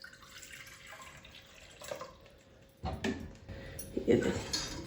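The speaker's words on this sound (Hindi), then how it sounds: "इसके अंदर हम पानी ऐड करेंगे 1 गिलास भर के" Water splashes and trickles into a metal pressure cooker in short bursts, with clinks of cookware and a steady hum underneath; fairly close.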